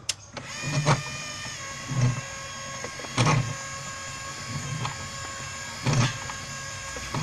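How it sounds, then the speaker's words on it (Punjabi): A machine grinding herbal ingredients runs with a steady close mechanical whir, its motor surging in periodic heavier bursts about once a second or so, with no talking. "ਔਰ ਇਹਨੂੰ ਮਸ਼ੀਨ ਨੂੰ ਹੁਣ ਚਲਾ ਦਿੰਦੇ ਆ"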